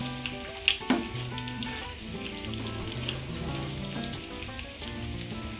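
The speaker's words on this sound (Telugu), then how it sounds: "ఆవాలు కాస్త వేగాక ఇప్పుడు ఇందులో ఒక 2 లేదా 3 టీ స్పూన్ల శనగపప్పు అలాగే రెండు మిరపకాయలను వేసుకోవాలి" Mustard seeds, chana dal and dried chillies frying in hot oil for an Andhra hotel-style poori curry, a continuous close crackling sizzle with sharp pops near the start, while music plays underneath.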